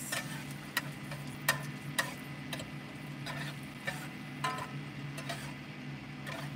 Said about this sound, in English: now we'll scramble the eggs